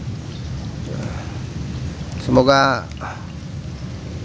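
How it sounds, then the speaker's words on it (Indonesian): Heavy rain pours beside a fishing pond, a constant hissing wash throughout, with a brief spoken voice rising over it midway. "ini hujan lebat"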